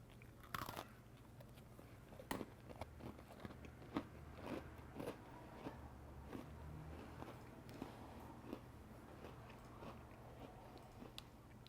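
Someone bites into a Brownie Batter Oreo cookie: close crisp crunches followed by quiet chewing, faint and alone, with no talking.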